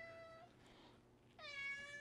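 A house cat meows twice in a room during a hydroponic gardening setup, the first meow soft and the second longer and clearer, both fairly faint with no one talking.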